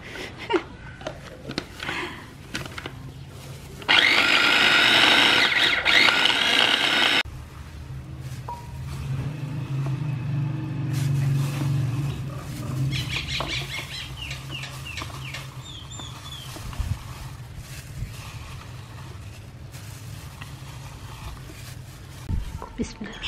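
A small grinder pulses a mutton kofta meat mixture: one loud, close, harsh whirring burst lasting about three seconds, surrounded by talking voices and chicken clucking in the background.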